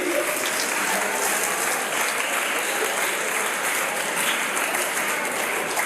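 Loud, sustained applause from a large audience at a college program event, steady and dense throughout with no talking.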